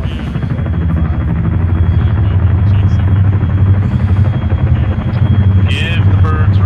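A helicopter in ArmA 3 military gameplay drones loudly and continuously with a steady low rotor thump, close and constant for the whole stretch, with brief faint game beeps near the end.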